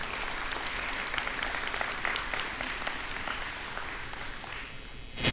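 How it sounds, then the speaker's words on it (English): A crowd at an awards ceremony applauds steadily and evenly for about five seconds, a broad dense wash of many hands clapping that ends with a brief louder swell. "Could you please give our coordinators another round of applause?"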